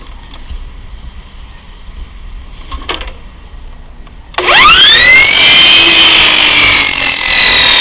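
Quiet room noise, then a power tool abruptly whirs up to a loud, steady high-pitched whine that keeps running.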